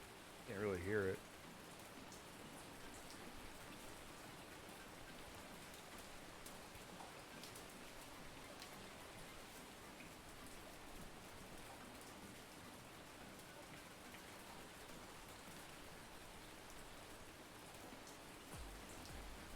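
Steady, faint rain patters continuously in the fishing video game Ultimate Fishing Simulator 2, a soft wash of noise with a brief louder burst at the start.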